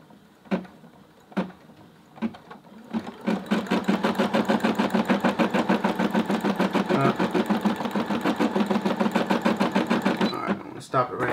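An embroidery machine stitching a black fill area runs in a fast, steady mechanical rhythm for several seconds after a few separate clicks, close and fairly loud, then stops abruptly.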